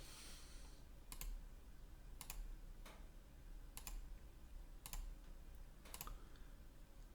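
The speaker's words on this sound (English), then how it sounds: "hit this Q on the keyboard" Computer keyboard keys are pressed during 3D modeling: about six crisp single clicks, spaced roughly a second apart, over a faint steady hiss with no talking.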